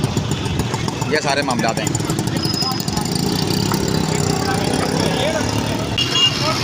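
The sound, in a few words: road traffic, cars and motorcycles passing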